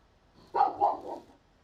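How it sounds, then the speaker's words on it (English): A single dog gives a short run of three quick, bark-like yelps at a moderate distance, the calls rising and falling within about a second and then fading to quiet. "The way that dog is howling"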